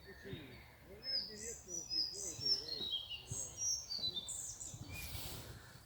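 A small bird sings close by in a quiet outdoor spot, with bright, rapid trills and chirps repeating in bursts over faint low chatter from people nearby.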